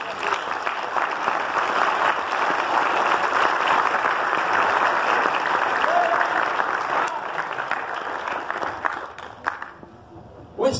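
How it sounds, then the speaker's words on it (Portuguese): A church congregation at a pastors' congress applauds loudly and continuously, dense clapping that holds steady for about ten seconds before tapering off abruptly. "Vamos aplaudir o Senhor Jesus."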